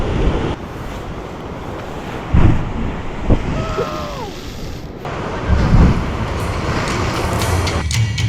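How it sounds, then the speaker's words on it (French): Strong coastal wind at the Kiama blowhole in Australia, buffeting gusts with rushing surf, loud rumbling bursts close to the microphone, plus a brief faint bird call. "il y a beaucoup de vent"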